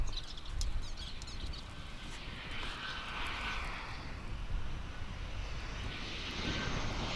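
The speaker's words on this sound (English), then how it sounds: "Here comes that flight from Austin" A distant jet airliner roars on approach to DFW International Airport after a flight from Austin, a broad steady hiss and rumble with faint bird chirps in the background.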